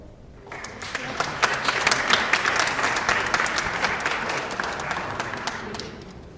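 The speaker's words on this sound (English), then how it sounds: "He deserves another round of applause" Applause from an audience at an Uptown Association community meeting, rising quickly after a quiet start and holding as a dense, steady round of clapping for several seconds.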